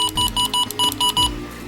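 Button-press beeps from a RadioShack 21-1679A radio for a valid entry: a quick run of about six short, bright electronic beeps, loud and close, followed by a faint tail.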